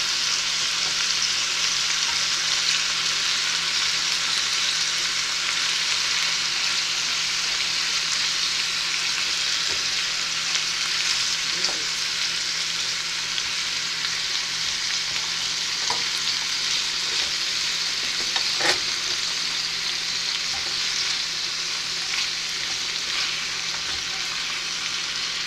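Pepper-seasoned kilawing papaya sizzles steadily in a favorite wok while being stirred, a dense, continuous frying hiss with a few sharp clicks from the utensil against the pan.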